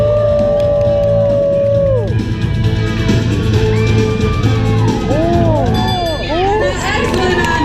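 A live audience at the Universal Studios Hollywood animal actors show cheers, whoops and yells as one loud, dense crowd, steady for the whole stretch, with a sustained tone early on.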